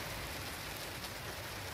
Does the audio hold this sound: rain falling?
yes